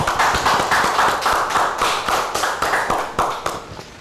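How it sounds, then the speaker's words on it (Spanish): Audience applause for a lecturer at the close of a Spanish-language law seminar on criminal procedure: steady, dense hand clapping from a room of people, fairly close and even in loudness, with no voices over it. "Un aplauso para el maestro."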